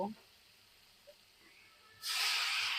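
Water is poured into a hot pan of spiced bitter gourd (karela): after a near-quiet stretch, a sudden loud, steady hiss and sizzle erupts and holds to the end.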